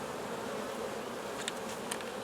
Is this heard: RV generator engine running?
no